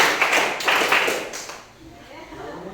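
A group of people in a classroom icebreaker clapping their hands together, a few quick rounds of claps that fade into quiet, indoor murmur after about a second and a half.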